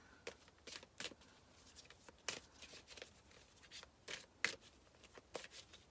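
A deck of Romance Angel oracle cards is shuffled by hand, producing quiet, irregular riffling bursts and soft slaps close up, with short pauses between them.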